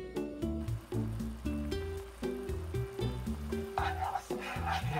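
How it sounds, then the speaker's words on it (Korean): Homemade seasoning sauce for stir-fried shishito peppers and king oyster mushrooms sizzles and bubbles as it boils in a pan, a steady crackle under loud background music. "양념장 만든 거를 먼저 팬에다 끓여줄 거예요"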